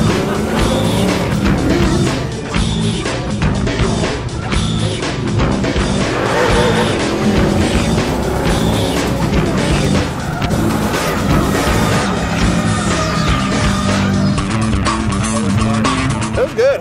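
A 1969 Mustang driven on a Goodguys autocross course, a loud, continuous engine roar with shifting pitch and tire noise, heard close without any talking.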